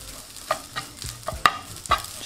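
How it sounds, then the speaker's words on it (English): Pre-boiled rice stir-fried in sesame oil alongside grilled chicken, with a quiet sizzle broken by a few sharp scrapes and knocks of a utensil against the pan. "Just gonna stir fry them"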